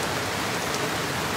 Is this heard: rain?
yes